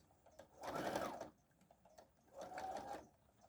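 A sewing machine stitches fabric for an Easter basket in two close, steady bursts of rapid whirring with a short pause between them and no talking.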